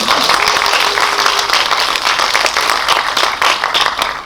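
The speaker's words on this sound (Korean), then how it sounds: "박수를 한번 다시 부탁드릴게요" Applause from a cinema audience at a special film Q&A screening, dense and steady clapping filling the whole stretch at close range, with no speech standing out.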